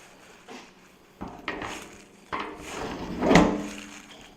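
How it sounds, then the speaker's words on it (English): A door being fitted back into a Can-Am Defender UTV with Super ATV doors, giving a few separate knocks and bumps of the panel seating into place, with a louder clunk near the end and no talk. "Put my door back in."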